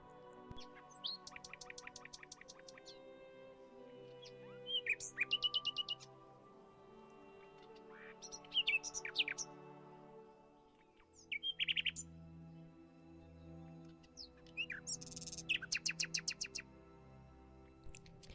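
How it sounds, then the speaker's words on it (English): Birds sing in repeated bursts of rapid trills and chirps, clear and fairly close, over a soft sustained musical backdrop. "there suddenly he heard the song of nightingales"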